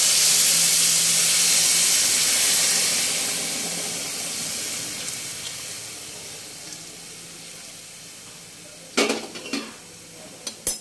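Hot water poured onto fried rice in a pan for basanti pulao hisses and sizzles loudly at first, fading to a steady simmer, then a few clinks of a utensil against the pot.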